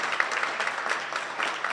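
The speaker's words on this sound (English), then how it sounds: "Let's give them a round of applause." Audience at a holiday celebration clapping steadily, a dense, even patter of many hands at moderate loudness with no voices over it.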